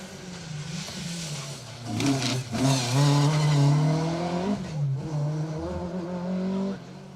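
A rear-wheel drive Vauxhall Astra rally car on a Manx Rally stage on the Isle of Man passes at a distance, its engine note rising loud as it revs through the gears and then fading away.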